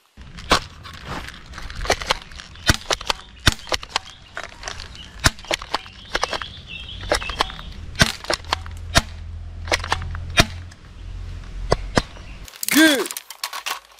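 Toy guns, including a toy AWM sniper rifle, fire a rapid series of sharp, snappy clicks and pops in irregular bursts, with a brief electronic chirp near the end; no talk is heard.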